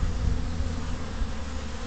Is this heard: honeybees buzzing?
yes